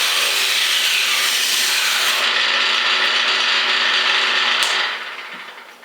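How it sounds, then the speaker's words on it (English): A one-pass beveler machine cuts bevel strips from wood with a loud, continuous rasping, sawing roar. The noise holds steady for several seconds, then fades as the strip runs out. "it really is, man, just a one-pass beveler"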